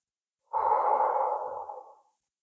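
A single slow inhale through the nose, soft and close, lasting about a second and a half before fading out.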